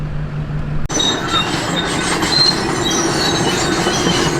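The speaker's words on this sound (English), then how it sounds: "Y'all might get to watch a dozer work now." Heavy machinery rumbles continuously after an abrupt onset, a loud, steady, broadband roar of a bulldozer working at a rock-hauling site with a dump truck nearby, with metallic squeals and clanks riding over the drone.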